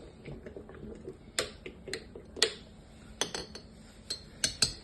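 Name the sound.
stirring raw kombucha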